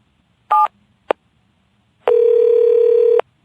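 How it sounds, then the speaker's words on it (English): A landline telephone handset sounds two short dialing tones, then a steady, loud dial tone lasting about a second, with no voices. "Mr. Williams picked up the phone and dialed his home number."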